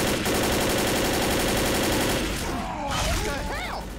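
Rapid bursts of automatic gunfire in the Left 4 Dead co-op campaign No Mercy crackle loudly during a tank attack, followed by a jumble of sweeping game sound effects.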